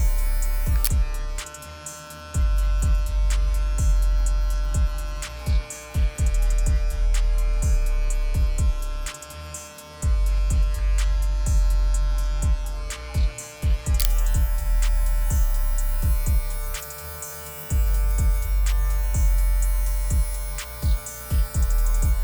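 Electric hair clippers fitted with a Wezteck blade and guard system cut hair with a steady close buzz, the motor hum holding throughout while cutting passes add brief changes in tone.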